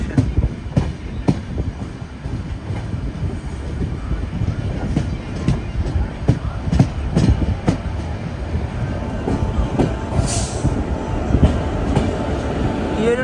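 A car-carrier freight train rolls past on the Konkan Railway at a station in Goa, producing continuous close rumbling and rhythmic wheel clatter for the whole stretch.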